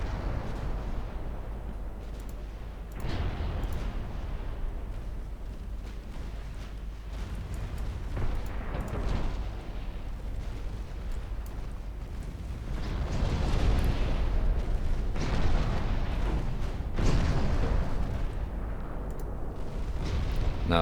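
Naval gunfire and explosions as a ship is sunk in Ultimate Admiral Dreadnoughts, heavy low rumbling booms rolling over a constant dull roar, growing louder toward the end with no voices.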